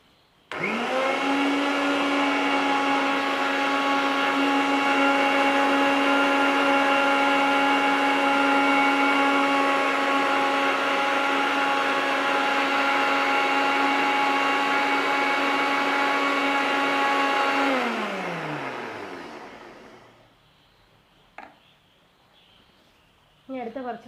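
An electric mixer whips egg yolk and oil into mayonnaise, a loud steady motor whine with strong tonal hum running continuously for about eighteen seconds before winding down, followed by a few faint clicks and brief sounds.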